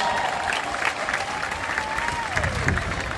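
Crowd applause at a live celebration honouring the Dutch national team, steady dense clapping throughout with a faint whistle-like tone gliding down beneath it.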